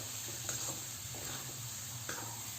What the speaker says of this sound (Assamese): এইখিনি দিয়াৰ পিছতো মই ভাজি থাকিম